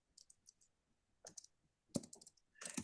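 Typing on a computer keyboard, quiet bursts of keystroke clicks in irregular clusters with short pauses between them, nearby and alone.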